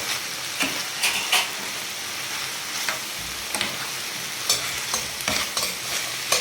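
Vegetables for Syrian shawarma frying in a pan, a steady sizzling hiss punctuated by repeated bursts of stirring and scraping, close and clear with no talk.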